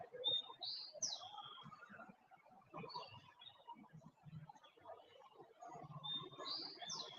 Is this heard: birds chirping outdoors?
yes